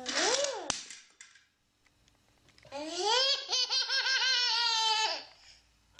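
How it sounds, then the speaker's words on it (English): A little boy's excited laugh, high and rising then falling in pitch, in two close, loud bursts separated by a short pause, the second a long drawn-out cackle. "his laugh, we think, is a bit Bond villain"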